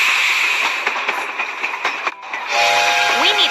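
Cartoon steam locomotive at an old station, with rumbling rail and carriage noise under a steady mechanical drone, then a sustained whistle-like horn tone near the end; voices speak over it.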